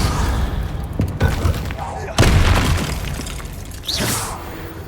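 Confringo spell blasts from the Hogwarts Legacy video game crack and boom in several loud bursts amid dense, noisy combat effects, with a voice calling out spells over them.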